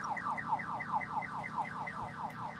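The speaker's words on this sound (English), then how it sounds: "don't have an obnoxious alarm on your car" A car alarm blares in a steady cycling warble, its pitch sweeping up and down in regular repeating bursts, loud and continuous with no voices over it.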